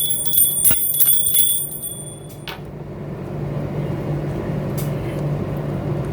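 A small handheld puja bell is rung during home worship, giving a bright metallic jingle with shimmering tones for about two seconds before fading into a quiet room hum.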